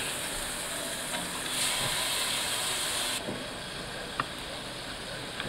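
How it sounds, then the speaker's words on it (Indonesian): Spice paste sautéing in margarine for a vegan green curry, a steady broad hiss of frying that drops slightly in intensity partway through, with faint clicks. "Jadi kita tumis bumbunya sampai dia hilangin aroma langu"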